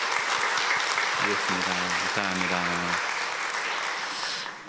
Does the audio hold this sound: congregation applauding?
yes